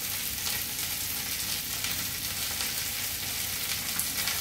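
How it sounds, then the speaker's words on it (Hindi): Spices such as turmeric and salt frying in a pan, giving a dense, even sizzle that runs unbroken and close throughout. "बस सिर्फ फ्राई करना है।"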